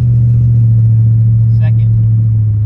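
C4 Corvette on its first drive in over twelve years, a loud steady low engine drone filling the cabin, with a brief faint higher sound partway through.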